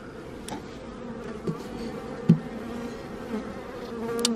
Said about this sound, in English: I love the way bees festoon.